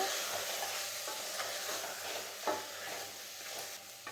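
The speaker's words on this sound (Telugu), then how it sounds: "ధనియాల పొడి, కారం, గ్రైండ్ చేసి పెట్టుకున్న మసాలా వేసుకొని ఈ మసాలా అంతా కలిసేటట్టు 2 నిమిషాలు బాగా కలుపుకోవాలి" Ground masala with coriander powder and chili is stirred in a pan with a continuous sizzle. Repeated scraping strokes of the spoon come through close up.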